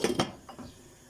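A pot lid set down over simmering soup with potatoes, two sharp metallic clanks close together followed by a softer rattle as it settles, with no talking.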